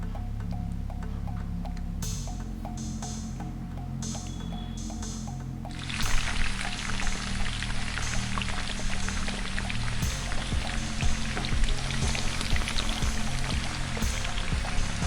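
Medu vada, crisp lentil fritters, drop into hot oil and set off a loud, steady sizzle and crackle that swells partway through and keeps bubbling to the end, with a faint low hum underneath.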